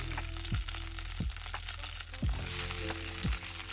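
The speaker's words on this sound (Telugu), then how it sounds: "ఇవి మనం జస్ట్ అండి మగ్గించుకోవాలి నూనెలో వేసి" Eggplant pieces fry in oil and ghee with a steady sizzle, broken by four soft scraping stirs spaced about a second apart. The sound is close and has no talk over it.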